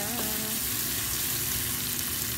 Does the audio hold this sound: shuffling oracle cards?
no